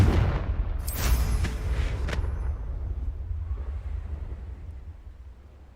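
Confringo blasting spell cast in Hogwarts Legacy, a loud fiery blast with sharp crackling bursts near the start, then a deep rumbling tail that slowly fades over several seconds, with no talking.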